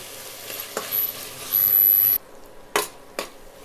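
Tomatoes and masala fry and get stirred in a pan for mutton biryani: a soft sizzle with a brief louder hiss, then several sharp scrapes and knocks of a spoon against the pan, close and without speech.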